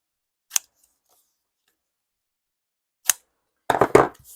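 Scissors trim a paper swatch of Crayola Super Tips marker colors, giving two sharp isolated snips followed by a quick cluster of cutting and paper handling, close and crisp against silence.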